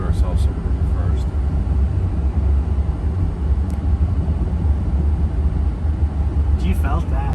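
A Lucid Air Grand Touring electric car accelerating hard on a freeway, with a steady loud low road and wind rumble filling the cabin and people talking over it.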